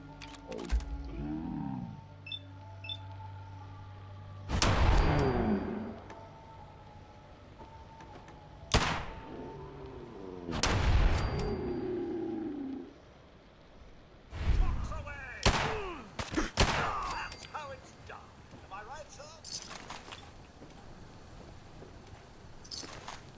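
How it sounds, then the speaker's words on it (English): Loud gunshots in the video game Fallout 4, several separate blasts with ringing tails spread across the stretch, mixed with game creature noises and a person talking. "I'm just gonna shoot you now"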